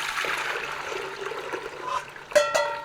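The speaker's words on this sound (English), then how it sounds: "I'm going to pour this over in a pan because we have to put it back on the stove and heat it" Hot cranberry punch pours into a pan on a stovetop, a steady close liquid trickle and splash that ends with a brighter clatter of the pan or container being set down.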